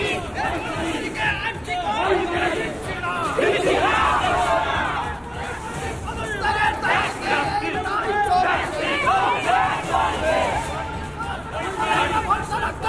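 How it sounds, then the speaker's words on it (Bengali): A protest crowd outside a hospital chanting slogans demanding justice, a continuous roar of many voices with rising and falling shouts throughout. "বিক্ষোভ প্রদর্শনে জাস্টিসের স্লোগান জাস্টিসের দাবি"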